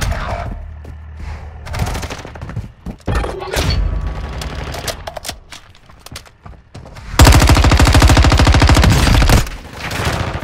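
Automatic gunfire from the video game Warzone 2.0, loud and sustained, with scattered shots and thuds early and a dense continuous burst in the latter half.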